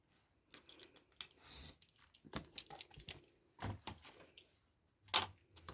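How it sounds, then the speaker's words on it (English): Scissors snip along the edges of decorative paper in a craft project, a run of short crisp cuts with brief pauses between them, close and fairly quiet, with no talk. "So I'm going to cut the edges"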